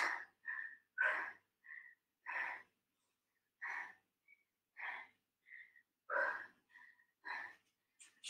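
Repeated heavy breaths during a whole-body workout, close and rhythmic, sharp huffs with short whistling gaps between them, each burst separated by brief silence.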